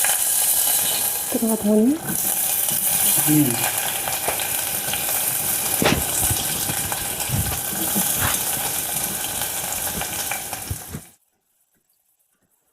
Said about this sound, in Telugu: ఒక 1 minute ఫ్రై చేసుకోవాలి